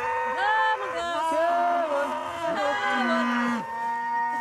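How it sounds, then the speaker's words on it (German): Highland cattle in a herd in the Scottish Highlands, including a black horned lead cow, lowing in long, loud, drawn-out moos that overlap and waver in pitch, close by. "Sie ist die schwarze Kuh mit den Hörnern, unsere Leitkuh."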